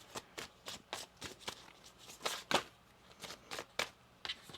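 Tarot cards shuffled by hand in a quick run of crisp riffling bursts, close and fairly loud, with no voices.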